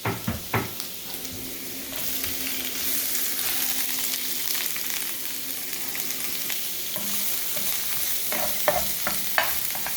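Garlic and green onion sizzle steadily in a hot pan for Chinese eggplant in garlic sauce, with a constant frying hiss broken by a few sharp scraping stirs and utensil knocks near the start and end.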